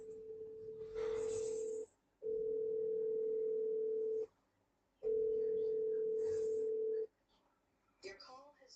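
A phone call rings out as three long, evenly spaced ringback tones with silent gaps between them, followed by a brief voice at the end as the call goes to voicemail.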